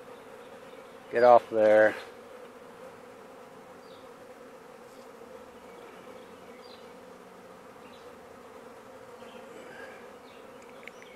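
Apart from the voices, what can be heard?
honey bee swarm buzzing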